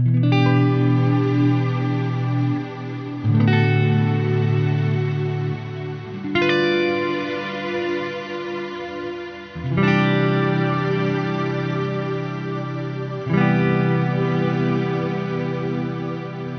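Lush, shimmering reverb from the cloud algorithm on a Strymon BigSky MX pedal washes over sustained guitar chords, each new chord swelling into a thick ambient cloud that lingers and blends with the last.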